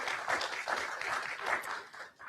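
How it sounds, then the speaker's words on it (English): Audience applause for teachers at a school board meeting, a dense, steady wash of clapping from a crowd that swells and fades over a couple of seconds with no one talking over it. "You can applaud for them too."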